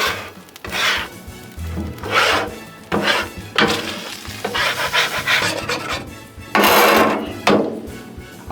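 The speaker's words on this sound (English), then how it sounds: "So let's clean this griddle up a little bit." A metal scraper works across a hot Blackstone flat-top griddle after making nachos, giving repeated loud rasping strokes in uneven bursts with sizzling between them, close up and with no talking.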